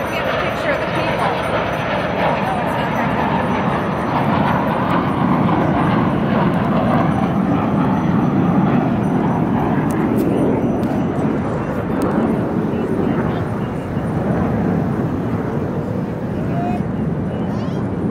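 Blue Angels jets perform at the 2017 Chicago Air and Water Show, producing a loud, sustained broadband roar that fills the whole stretch with no break, while voices are faintly present beneath it.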